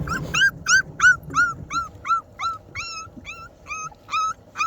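Week-and-a-half-old puppies whimpering, a rapid series of about a dozen thin high squeaky whines, close and fairly loud, repeating in quick irregular succession with low rustling beneath.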